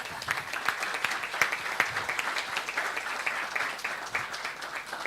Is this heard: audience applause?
yes